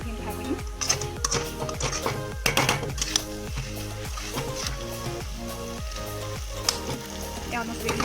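Chowmein noodles with potatoes, onion, soy sauce and chili sauce fry in a pan, giving a steady close sizzle with rhythmic stirring strokes and a soft tonal hum underneath.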